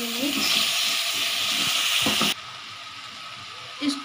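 Capsicum and potatoes fry in oil in a pan, giving a steady close sizzle that drops off sharply partway through, followed by quieter crackle and a brief stirring clatter near the end.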